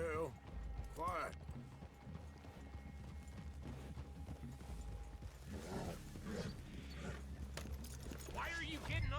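Horses' hooves clip-clop at a walk across a Red Dead Redemption 2 game scene, a steady moderate patter running throughout beneath talking voices and low ambient rumble.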